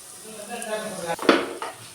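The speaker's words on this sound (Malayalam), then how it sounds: "ഇനി നമുക്ക് ഈ മസാലയ്ക്ക് പൊട്ടറ്റോ ആഡ് ചെയ്ത് കൊടുക്കാം." Potato pieces go into masala frying in a pan for potato roll samosa, a short soft sizzle with a spoon scrape and a brief clatter of the pan, close up.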